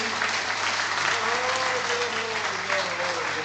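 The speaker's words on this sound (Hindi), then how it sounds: "जोरदार तालियां बजाइए।" Enthusiastic audience applause erupts after a Hindi poem recital at a poetry gathering, a dense, steady wash of clapping that stays loud and close for the whole stretch, with faint voices mixed in underneath.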